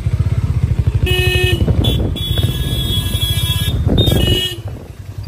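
A motorcycle engine putters steadily close up, with a few horn toots and passing traffic along the road.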